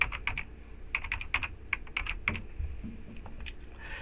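Typing on a computer keyboard, quiet close key clicks in irregular bursts and short runs with brief pauses between them.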